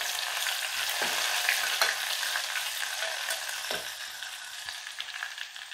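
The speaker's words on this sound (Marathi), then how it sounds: "तेल गरम झालं आहे, यामध्ये प्रथम जिरे घालूया, लसूण घालूया, लसूण थोडासा परतून घेऊया" Cumin and garlic fry in hot oil for khichdi, a dense steady sizzle up close with a few stirring knocks, slowly easing off toward the end, no voices.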